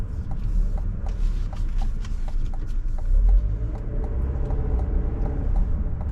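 A 2024 GMC Acadia Denali AWD midsize SUV on 275 tires makes a tight full-lock turn, giving a steady low engine and road rumble throughout with a slight swell midway.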